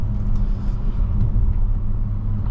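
A 2018 Audi RS5 coupe's 2.9-litre twin-turbo engine drones steadily from inside the cabin while driving, a dense low rumble with no talk over it.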